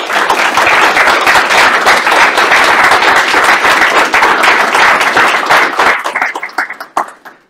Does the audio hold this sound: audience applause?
yes